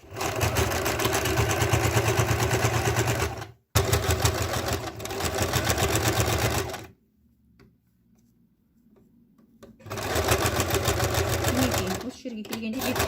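A sewing machine stitches a trouser seam in two steady, loud runs with a brief stop between them, goes quiet for a few seconds, then starts stitching again.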